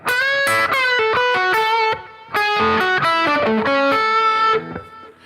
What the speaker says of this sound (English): this is the same thing as that first sound, cleanish, but with a delay on it